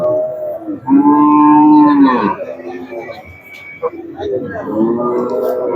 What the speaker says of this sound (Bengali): আরো দুটা গরু দেখি